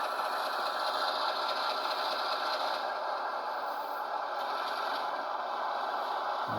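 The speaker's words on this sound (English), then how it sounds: "crank it up to speed step 1, 2, 3, 4, 5, 6. Hear the RPMs change." Model ES44AC diesel locomotive's sound decoder running, engine RPM rising through speed steps 1 to 6; a steady, close, continuous whirring engine drone with a faint mechanical scrape, no speech.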